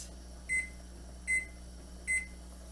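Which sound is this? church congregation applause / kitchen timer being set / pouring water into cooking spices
kitchen timer being set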